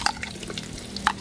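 Ginger sautéing in hot oil in a pan gives a brief, soft sizzle with a couple of light stirring scrapes, close and fairly quiet, with no talking.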